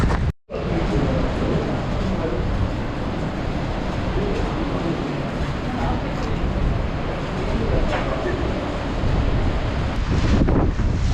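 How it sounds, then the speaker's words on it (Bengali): Strong wind buffets the microphone near Nohkalikai Waterfall in Meghalaya during rain and cold, a loud continuous roar of gusts and rushing air running through the whole stretch with a brief dropout near the start. "খুব বাজে অবস্থা এখানে এত জোর হাওয়া দিচ্ছে না দাঁড়াতে পারছি না এখানে"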